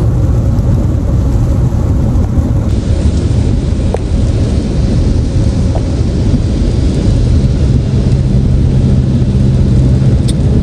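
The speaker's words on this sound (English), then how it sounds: "It's just raining." Heavy rain drums steadily on a car while driving, a constant loud wash of noise with no voices.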